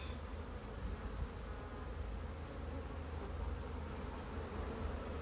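Honey bees buzzing steadily around an open hive during a beehive inspection in October, a dense continuous drone of many wings close by, with no talk.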